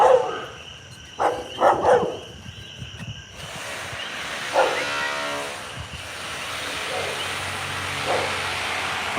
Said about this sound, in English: this dog's about to bark at me